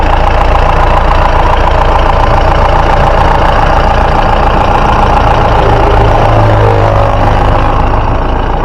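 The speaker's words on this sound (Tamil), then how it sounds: "அந்த மகேந்திரா வண்டி வந்து ஸ்டார்ட் ஆகிறதே ஒரு கெத்து வண்டியோட இன்ஜின் சவுண்டாக அமைதியாக கேளுங்க" Mahindra Bolero diesel engine running at idle, a loud, steady low rumble with a faint clattering knock throughout, heard close up with no talking.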